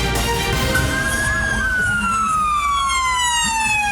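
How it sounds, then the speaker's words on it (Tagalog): A civil-defense siren wails during a nationwide earthquake drill at the University of Mindanao in Davao City, its long rising-then-slowly-falling tone loud and steady, with low rumbling traffic noise underneath. "Eksaktong alas 2 ng hapon kahapon pagtunog ng sirena"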